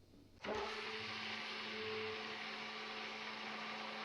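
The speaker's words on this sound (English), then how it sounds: "we're gonna sprinkle it in slowly while blending with the blender so it mixes" A blender starts abruptly and runs steadily, blending chicken bone broth with xanthan gum being sprinkled in, a loud constant whirring drone close by with no talking.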